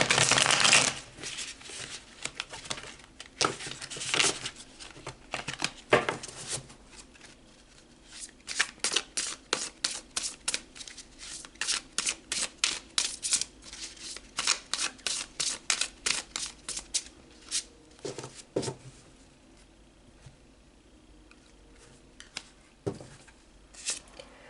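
Tarot cards being shuffled by hand, close and crisp, in repeated riffles and rapid flicking bursts with short pauses between, fairly quiet and without any talking.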